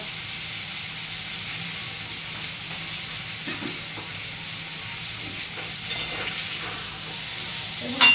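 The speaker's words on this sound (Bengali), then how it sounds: "আর একটু ভাজা হয়ে যাক।" Eggplant sizzling in a pan in a home kitchen, a constant moderate hiss of frying with a few soft clinks of a utensil near the end.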